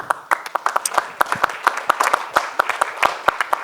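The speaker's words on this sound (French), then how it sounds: "On peut les applaudir." Festival audience applauding two film studio producers: a modest scattering of hands clapping in sharp, uneven claps, close and distinct, with some murmured talk beneath.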